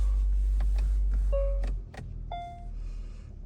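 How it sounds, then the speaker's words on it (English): Electric motor of a 2024 Hyundai Kona Limited sunroof opening, a short whirring hum with a couple of faint clicks inside a quiet car cabin. "Just open that sunroof there for you"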